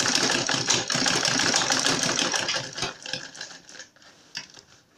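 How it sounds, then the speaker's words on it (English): A sewing machine stitches fabric for a diaper bag, a fast rattling mechanical whir running steadily at close range, then slowing into short bursts before stopping. "So I just sew it in."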